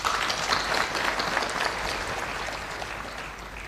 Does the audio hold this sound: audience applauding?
yes